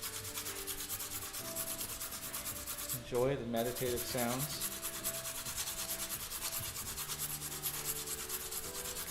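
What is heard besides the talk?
hand sanding with sandpaper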